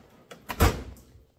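A drawer slides open with a short, close rumbling scrape in a tool shop, a single brief movement with a soft knock at the end.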